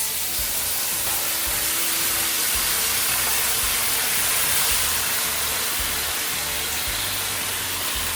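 Loud steady sizzle and steam hiss as hoisin sauce hits a hot pan of cooking zucchini, a continuous broadband spray-like rush with low rumbling bubbling beneath, no voices.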